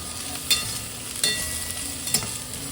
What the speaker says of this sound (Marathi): त्यातच कापून घेतलेली तोंडली आणि चवीप्रमाणे मीठ घालून छान परतवून घ्यायची।